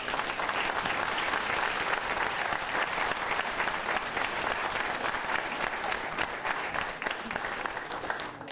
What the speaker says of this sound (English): Let's have one big applause for our award recipients.